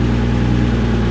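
Steady, close engine hum from a 1978 Dodge Aspen holding a high idle, low on fuel, an even drone for just over a second with no voices.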